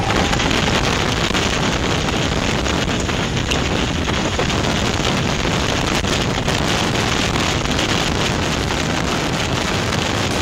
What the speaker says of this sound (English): you can also hear the very windy conditions.